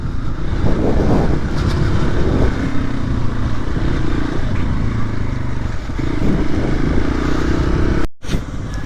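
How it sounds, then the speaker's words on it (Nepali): A motorcycle engine drones loudly and steadily amid ongoing road traffic, its rumble shifting slightly as it passes, with no speech. "यहाँदेखि चाहिँ फेरि अर्को बाइक हो"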